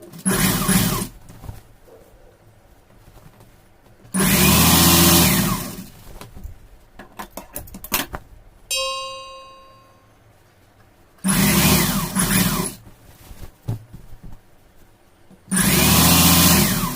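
An electric sewing machine stitches the side seam of a chudithar in several loud whirring bursts separated by quiet pauses, with a brief high ringing tone in the middle.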